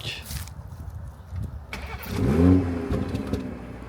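Toyota Supra with a B58 engine cranking and firing up, followed by a rising rev that swells and then settles, heard fairly close with faint background noise.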